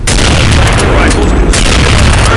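Rifle gunfire in the video game Counter-Strike at a firing range, a loud, dense burst of booming shots filling the whole stretch with little pause.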